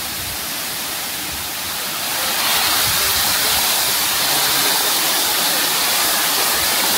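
Water rushes over rocks at a seaside spot in Taichung, a loud steady hiss of flow that swells a little after the first couple of seconds and stays dense, with no voices.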